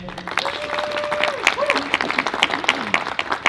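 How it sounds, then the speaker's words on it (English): Applause at a WonderCon panel of MENA artists and entertainers, clapping with scattered cheers and a whistle-like tone over it, people audibly voicing within the crowd. "let's give them a round of applause, okay?"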